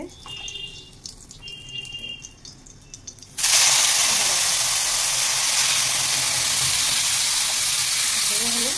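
Cumin seeds hit hot oil in a pan before fish frying and papaya curry, setting off a sudden loud sizzle partway through that holds steady to the end after a quieter stretch of kitchen noise.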